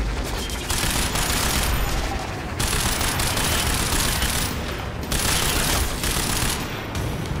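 Dense, continuous automatic gunfire in the action shooter game Quantum Break, loud and sustained bursts filling the soundscape with only brief dips between volleys.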